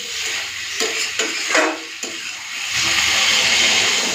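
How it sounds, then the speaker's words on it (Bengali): Water goes into a frying pan of kohlrabi and potato already cooked down with prawns, giving a steady hissing, bubbling sizzle that rises and holds loud near the end, with a few stirring scrapes earlier. "চলুন জলটা দিয়ে দিই।"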